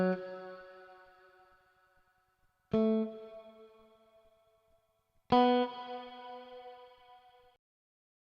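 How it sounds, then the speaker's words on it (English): Electric guitar sound added in music production software for a Bakosó Afrobeats beat, three separate chords struck several seconds apart, each ringing out and slowly decaying with a chorus-like effect, alone and fairly quiet. "I'm going to add this guitar"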